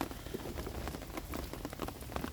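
Steady rain patters on a heavy canvas tarp strung up at a hiking spot beside old railway tracks, a dense, even drumming with scattered louder drops close overhead.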